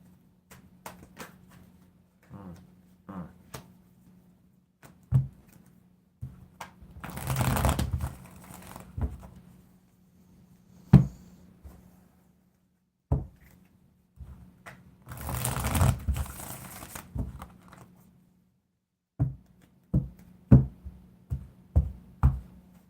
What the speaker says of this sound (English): Let's get a quick shuffle of these cards.